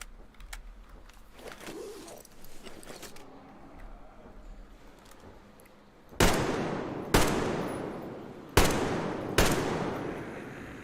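Four loud, sharp AK rifle shots in the Metro Exodus shooter game, fired at roughly one-second intervals with echoing tails, after a stretch of quieter ambient game sound.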